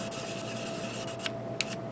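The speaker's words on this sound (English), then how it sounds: "I'm going to be ending up sanding down some of the parts" Close, steady scratchy rubbing as 1/144-scale plastic Gundam model kit parts are sanded, with a few sharper ticks near the end.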